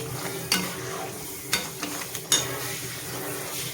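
Spiced masala being sautéed in oil with a little garam masala, a soft steady sizzle broken by a few sharp scrapes of a spatula against the pan, close and without voices.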